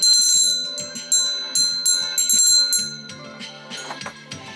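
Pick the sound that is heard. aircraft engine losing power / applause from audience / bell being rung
bell being rung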